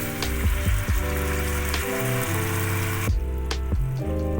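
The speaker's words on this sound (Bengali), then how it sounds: "এর মধ্যে আমি মশলা ধোয়া জলটা দিয়ে দিলাম।" Spice-washing water poured into hot oil for a jackfruit curry, giving a steady, loud sizzle with gentle stirring and a few soft knocks over about four seconds, and no voices.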